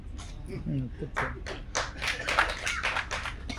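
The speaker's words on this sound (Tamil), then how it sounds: "இப்படி ஒருத்தர் 2 பேர் கைதட்டுறீங்கல்ல," A handful of people clapping at a movie press meet, sparse separate claps near the microphone, with someone speaking over the start.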